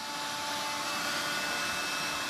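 A Dyson vacuum cleaner runs loaded with dust during a suction test, giving a loud, steady broadband whoosh with a constant high whine and no breaks.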